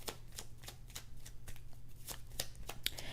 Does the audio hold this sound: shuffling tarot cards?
yes